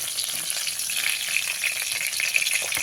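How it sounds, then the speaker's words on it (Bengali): Potatoes crackle and sizzle in hot oil for pumpkin chokka, a dense, even frying hiss with small pops, no voices. "হিংটা দিয়ে আলুর সাথে খুব ভালো করে ভেজে নেব"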